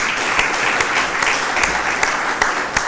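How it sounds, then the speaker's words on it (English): An audience at a county forum on a PACE program breaks into sustained, even applause for the panelists, a dense wash of many hands clapping with no talk over it. "Let's give them one more round of applause."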